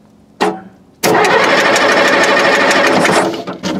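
Case 1150 dozer engine cranking over: a brief first crank burst, a pause, then a sustained loud, rapid chugging crank with a steady pulsing rhythm that continues to the end.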